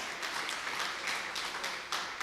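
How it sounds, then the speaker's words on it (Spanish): A church congregation applauds, a soft, distant patter of clapping that swells in brief waves over a couple of seconds with no voices on top. "¿Cuántos aplauden el nombre de Jesús?"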